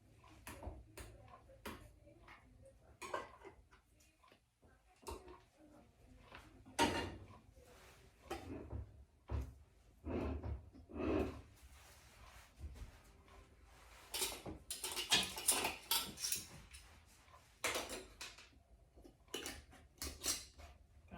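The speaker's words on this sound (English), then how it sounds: "Just gonna put my little lids on." Metal canning lids set onto glass jars of chicken for pressure canning, a string of light clicks, taps and small clanks at an uneven pace, close and fairly quiet, busier toward the end.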